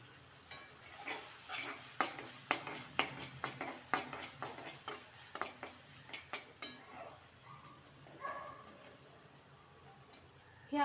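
Masala being stirred into vegetables in a pan for a traditional Bhogi bhaji, with a run of close spoon scrapes and clinks against the pan over a soft sizzle, the strokes irregular and fading toward the end.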